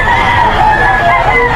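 A brief, busy burst of chickens clucking and crowing at the Bocaue pet market, many birds calling at once and loud nearby.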